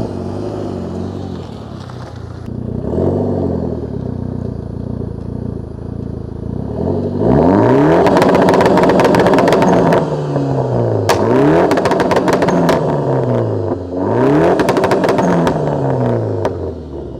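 A Proton Inspira converted to Evo 10 MR spec, with a straight-piped HKS exhaust, idles loudly before erupting into three sharp, blaring revs, each falling away with a crackling, rattly note.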